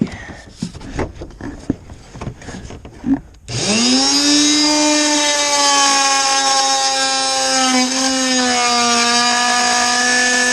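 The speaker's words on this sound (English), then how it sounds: "Okay, so I got this Rockwell hacksaw. I'm gonna see if you guys can watch me do this or not." A Rockwell hacksaw cuts into a 2nd gen Dodge Ram 2500 dash. Light handling clicks and rustles come first, then the tool starts and holds a loud, steady, close motor whine that wavers slightly in pitch.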